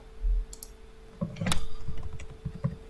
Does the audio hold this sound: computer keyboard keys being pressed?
yes